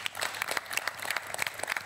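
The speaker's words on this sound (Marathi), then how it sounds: "नरेन चव्हाण यांच्यासाठी जोरदार टाळ्या." An audience applauds a guest at a Marathi comedy show press-conference skit, brisk clapping with a rapid crackle that holds steady through the short burst, with no voices over it.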